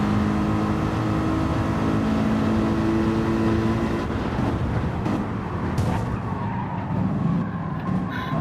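In a sim-racing V8 Challenge race at Autodrome Lago Maggiore, a race car brakes late and knocks another car into the gravel. Engines whine loudly and steadily, then turn to rougher skidding and crunching noise.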